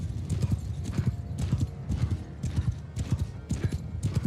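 Cavalry horses charge in Mount & Blade, with loud galloping hoofbeats pounding in a fast, regular rhythm at close range.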